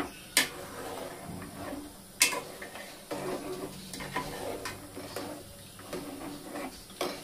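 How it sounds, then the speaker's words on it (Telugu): Mutton paya frying in a pan, a continuous low sizzle with occasional sharp ticks and the scrape of stirring, moderately close with no talking. "వేసినాక మంచిగా దీనికి ఫ్రై చేయాలి."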